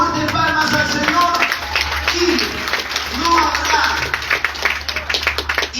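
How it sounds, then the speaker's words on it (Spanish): A church congregation clapping in praise, a brisk stream of many hands mixed with voices and a low instrumental hum, loud and sustained throughout. "Bendícele con fuertes palmas al Señor."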